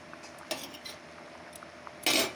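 Fried paneer pieces go into a pot of dal with a few light metallic clinks of a utensil against the pot, then a brief louder scrape and clatter at the end, all near and quiet.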